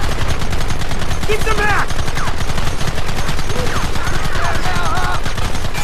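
Dense, loud gunfire from the Red Dead Redemption video game, rapid continuous shots filling the whole stretch while someone shouts over it and other voices call out.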